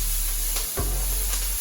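Minced garlic sizzles steadily in a hot frying pan as it is stirred, a close, continuous crackling hiss with a brief scrape of the utensil partway through.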